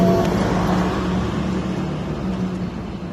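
A 1500-watt e-bike motor runs steadily up close, a constant humming whir with a low tonal drone, slightly easing off toward the end, with no talking.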